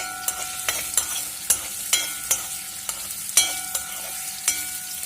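Carrots fry in hot oil with a steady sizzle, broken by regular sharp scrapes and clicks from a utensil stirring the pan at close range; no one speaks.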